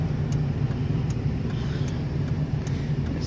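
A truck pulling out onto the road on a chilly December day, its engine a steady low rumble close by, heard alone without talk.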